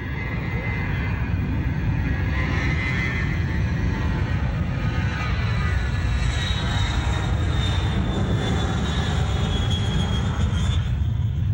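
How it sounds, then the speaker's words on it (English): Air Force One, a presidential jet, roaring steadily with a broad, loud engine rumble and a thin high whine, continuous and fairly close throughout with no talking. "There you see Air Force One."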